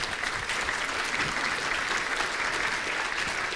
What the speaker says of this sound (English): I just really want to give another warm round of applause for our staff